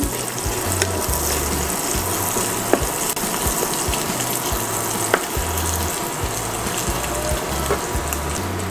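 Bacon sizzles and fries steadily in a pan for carbonara, a dense continuous crackle with occasional sharp pops, close and fairly loud with no talking.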